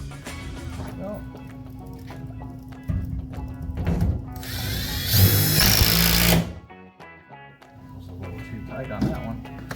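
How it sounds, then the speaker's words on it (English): A power drill driving toggle bolts through drywall for a TV wall mount, with a nearby motor whine and grinding that rises to a loud, harsh burst before cutting off, amid handling clatter and someone talking. "Let's go ahead and do those toggle bolts now too."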